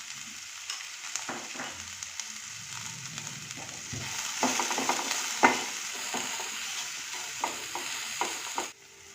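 Chopped green chili, bell pepper, green capsicum and carrot frying in a pan while being stirred, with a steady sizzle broken by repeated scraping strokes of the spoon, close and alone without speech.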